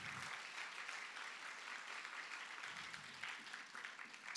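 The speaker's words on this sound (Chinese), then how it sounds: "拍掌将荣耀归给神，阿们。" A church congregation at a sermon applauding, a faint, steady patter of many hands clapping together, heard from a distance.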